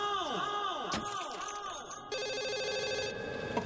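Telephone bell ringing loudly in a car insurance advert, repeated rings with a sharp slam-like hit partway through and a brighter electronic tone toward the end.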